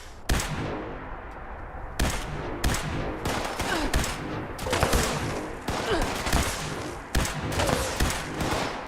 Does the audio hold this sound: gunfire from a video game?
yes